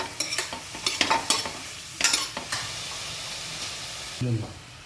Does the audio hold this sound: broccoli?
yes